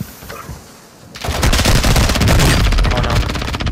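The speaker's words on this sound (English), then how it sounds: "We're getting shot from below." Video game shooter gunfire with an RPK in play: after a quiet opening, sustained rapid bursts of automatic fire erupt loud and close, rattling on continuously to the end.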